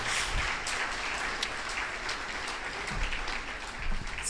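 Church congregation applauds after a Christian sermon, a steady, moderately loud patter of many hands clapping that swells slightly near the end, with no voices on top.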